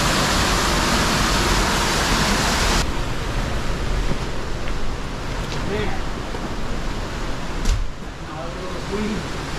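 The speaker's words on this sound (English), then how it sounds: "The waterfall is intense." A backyard waterfall roars as a steady, loud broadband rush of falling water, close by and continuous, with a brief splash or knock near the end and faint voices in the background.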